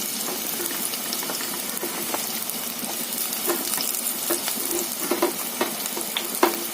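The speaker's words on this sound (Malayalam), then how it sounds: "ഒരല്പം ഉപ്പും ചേർത്ത് അതൊന്ന് വഴറ്റിയെടുക്കാം ചെറുതായിട്ട്" Chopped onions and shallots sauté with salt in a pan, giving a steady, soft sizzle with occasional crackles and light stirring scrapes throughout.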